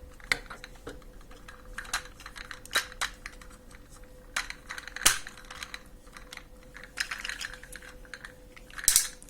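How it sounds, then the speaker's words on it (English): A transforming plastic Tomica Earth Granner Buffa Gator toy clicks and clacks as its parts are slid, pivoted and tabbed into place, giving scattered sharp close-up snaps and taps over a quiet background with no talking. "slide the buffalo head slides from here into this position. And then you pivot the arms backwards and they tab into place."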